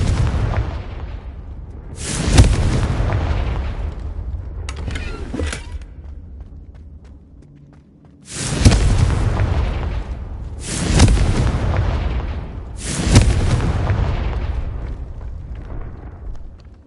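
Confringo spell blasts in Hogwarts Legacy go off as about five loud, booming explosions, each with a sharp onset and a rumbling decay, spaced a few seconds apart.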